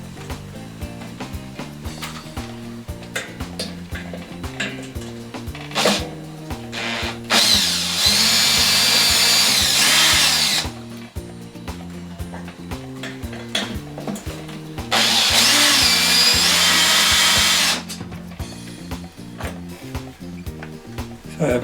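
A power drill running in reverse with a Phillips #2 bit at speed 1, backing out the screws that hold a ceiling fan's blades, in two loud sustained bursts of about three seconds each, with quieter handling sounds between them.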